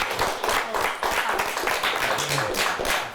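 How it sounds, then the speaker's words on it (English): Studio audience at a high school quiz show applauds the Tawas team after its 170–160 win over Interlochen Arts Academy, a steady dense patter of clapping hands filling the room, with faint voices mixed in underneath. "Let's give him a nice round of applause."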